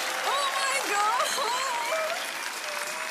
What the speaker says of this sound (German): Du kriegst auch noch mal einen Applaus von den anderen Kandidaten.